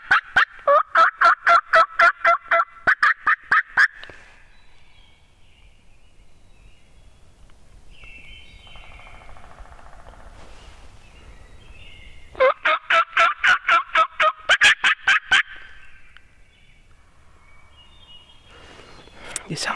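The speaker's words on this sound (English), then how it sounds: "if I call, they're still gobbling." Wild turkeys gobble in two rapid rattling bursts separated by a quiet stretch, sounding moderately distant outdoors with faint rustling in between.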